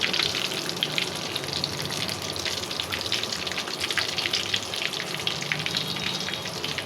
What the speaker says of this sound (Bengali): এখন আমি তেলটাকে একটু ঘুরিয়ে ঘুরিয়ে এভাবে বেগুনগুলোর চতুর্দিকে লাগিয়ে দিব